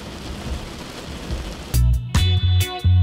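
Steady monsoon rain patters over the Dhaka Ashulia elevated expressway area for a moment before loud, abrupt bursts of sound cut in and take over.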